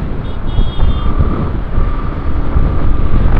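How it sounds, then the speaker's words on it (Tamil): Strong wind buffets a motorcycle riding on the Trichy Road near Sulur, Coimbatore, giving a loud, continuous low rumbling roar of wind across the microphone with faint engine tones. "காற்று என்ன ஒரு பக்கம் தள்ளுது, விட்டா என் வண்டி தள்ளி இழுத்துட்டு போயிடும் போல"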